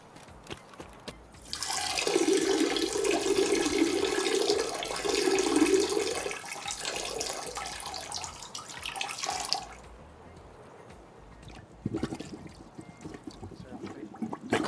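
Someone urinating in the Escape from Tarkov game, a loud steady splash of liquid hitting water for several seconds that cuts off abruptly, followed by quieter rustling and a brief burst of noise near the end.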